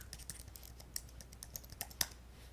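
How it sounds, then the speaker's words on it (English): Keystrokes on a computer keyboard sound as a run of quick, irregular clicks at moderate closeness, with one sharper keypress standing out near the end, heard alone without talk. "Oh no, I typed the wrong thing."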